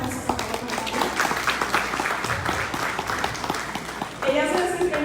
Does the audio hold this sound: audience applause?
yes